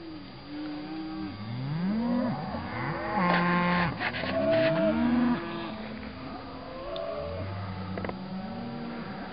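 A herd of cattle on a highway drive lowing repeatedly, many animals calling over one another in long rising and falling moos, near and far, without any speech.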